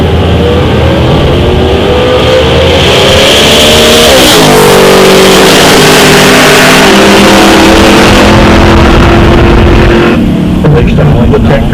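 A 1970 Chevy Nova drag race car with a 1,500-horsepower big block Chevy engine roars loud and close at the line, its pitch climbing and shifting through sustained high revs.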